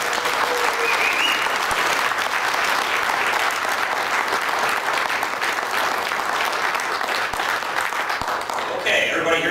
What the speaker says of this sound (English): Can we please give him a huge round of applause?